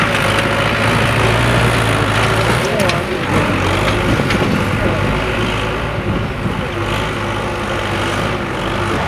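A tractor ploughs a firebreak during a forest fire drill, its diesel engine droning and labouring steadily at close range while someone talks over it.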